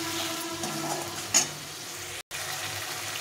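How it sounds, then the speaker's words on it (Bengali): Fried potatoes sauté in spiced oil, giving a continuous soft sizzle close by with a brief scrape of a utensil partway through. "আলুটা সুন্দর করে ভেজে রেখেছি লাল করে একদম, দিয়ে একটু কষিয়ে নেব।"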